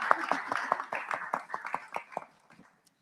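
Applause from a small audience at a panel salon, a handful of distinct claps fading out over about two and a half seconds into quiet.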